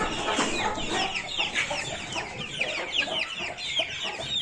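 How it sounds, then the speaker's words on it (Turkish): A crowd of chicks clucks and cheeps without pause in a coop, a dense, busy chatter of many birds close by. "Civcivlerimizi Şöyle bir bakalım."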